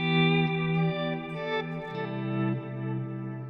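Sustained guitar notes swell in smoothly through a Strymon Timeline digital delay pedal, repeats blending into a soft ambient wash, heard alone and moderately loud.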